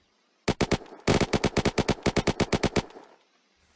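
MP38 submachine gun from the Project Liberty Sudetenland Crisis 1938 mod firing in a game, with two quick shots followed by a long, loud, evenly spaced automatic burst of about fifteen rounds, then a fading tail.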